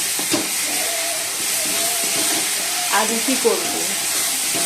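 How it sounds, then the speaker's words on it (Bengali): Masala spices sautéing in a pan in a home kitchen, a steady close sizzle with occasional stirring scrapes, while someone talks briefly over it. "আর এদিকে মশলাটা কষানো হচ্ছে"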